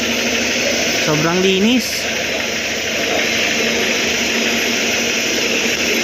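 An owner-type jeep with a large engine runs steadily with a constant, vibrating drone throughout, someone speaking briefly over it.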